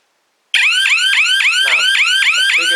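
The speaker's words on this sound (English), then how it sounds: "We're going to set the alarm, trigger motion detection, and let that ring into the system." After half a second of silence, a wireless GSM alarm system sounds once triggered by its motion detector: a loud, rapid, repeating rising electronic whoop that pulses steadily about four times per second.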